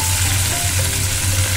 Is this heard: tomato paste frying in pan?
yes